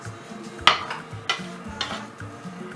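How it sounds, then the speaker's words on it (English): Sausage cooks in a frying pan for an omelet, with a low sizzle under three or four sharp clinks and scrapes of a utensil against the pan. "Meanwhile, I'm cooking my sausage."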